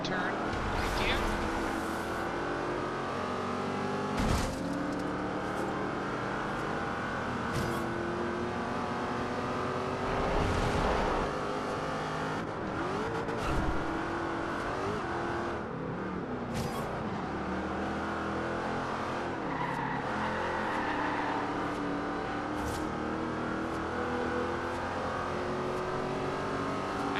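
Jaguar car drifting in Forza Horizon 2, a steady engine drone with revving and tire scrub through a turn, loud and continuous, with someone talking over it.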